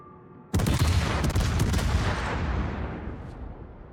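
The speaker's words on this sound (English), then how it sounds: "I hear Shikishima shooting. Is she shooting at me?" Heavy warship guns fire in a naval combat video game: a sudden loud boom after a brief quiet start, followed by a rolling barrage and echoing rumble that slowly fades.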